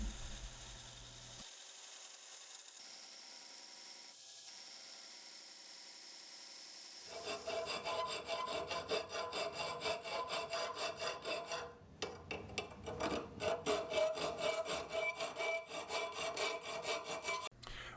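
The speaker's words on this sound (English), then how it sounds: "I'll get all the hard to reach places with files" Metal file rasping by hand along a Damascus steel Bowie knife blade made of 5160 and 15N20, quiet scattered scraping at first, then a long run of steady, close back-and-forth strokes.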